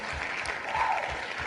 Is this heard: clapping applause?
yes